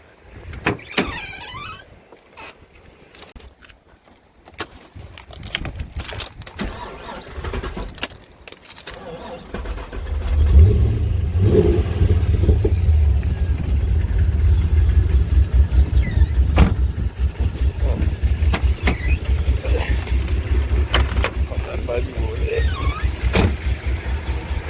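Keys jingle faintly, then a rebuilt LS1 V8 with an aftermarket cam and headers in a 2001 HSV VU Maloo fires up into a loud, deep, lumpy rumble that stays steady and close for the rest of the clip.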